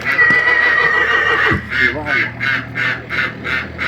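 A Volodymyrets draft-breed stallion in the Ternopil region neighs loudly and close, a long whinny followed by pulsing, snorting calls, with people talking over it.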